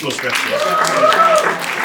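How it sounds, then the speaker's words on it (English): An audience applauds for a short stretch in a room, with the clapping mixed under a voice speaking over it. "Round of applause for Effie."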